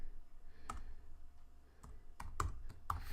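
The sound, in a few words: typing on a computer keyboard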